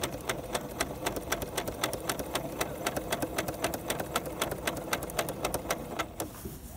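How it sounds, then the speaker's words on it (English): A home sewing machine stitches along a ruler template for quilting, with a steady fast run of mechanical ticks for about six seconds before it slows and stops. "put that template right against the edge of the foot and stitch out"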